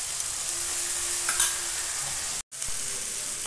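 Ginger garlic paste frying in a pan with chopped tomato and green chilli for chana paneer, giving a steady low sizzle with light stirring and one abrupt brief cutout.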